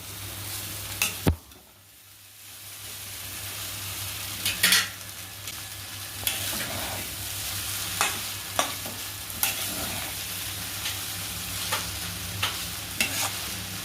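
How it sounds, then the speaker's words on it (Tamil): Noodles stirred and tossed in a hot pan over a steady sizzle, with a sharp utensil clank near the start and repeated scraping strokes at an even, unhurried pace. "நம்ம நூடுல்ஸ் எடுத்து போட்டுக்கலாம். எல்லாத்தையும் போட்டு ஒரு டைம் வந்து மிக்ஸ் பண்ணிக்கலாம்."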